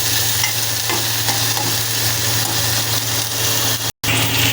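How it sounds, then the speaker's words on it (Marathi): Chopped onion frying in about three spoons of hot oil in a pan for chana masala, a steady close sizzle with stirring scrapes, continuous and loud, briefly cut out near the end. "त्यानंतर कांदा चांगला फ्राय होऊन द्यायचा ब्राऊन"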